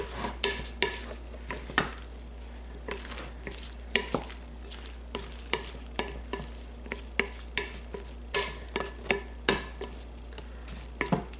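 A spoon scrapes and clinks through a tomato mixture as a tablespoon of balsamic vinegar is mixed in, giving a steady run of sharp taps over a faint sizzle and a low hum.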